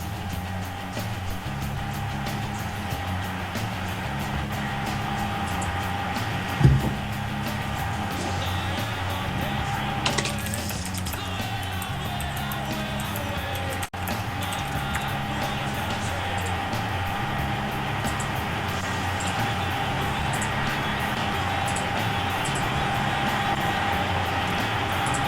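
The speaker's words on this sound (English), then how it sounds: "Your computer is so loud," Loud computer running during an online game session, a steady droning hum with tonal whine, constant throughout, with a few brief knocks and clicks over it.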